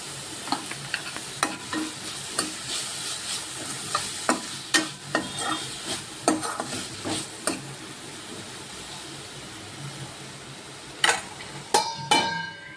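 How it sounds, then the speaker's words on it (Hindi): A paste of green chili, garlic and curry leaves frying in a pan for kadhi, its steady sizzle punctuated by repeated crisp spatula strokes and scrapes, loud and close, with a few sharper clinks near the end. "जो पेस्ट बनाया था मैंने मिर्च और लहसुन और कड़ी पत्ता का, वो डाल दूँगी।"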